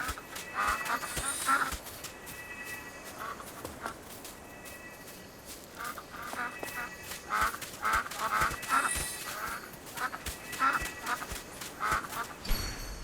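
Ducks in AFK Journey quack and honk repeatedly in irregular bursts, some overlapping, moderately loud over a quiet game background.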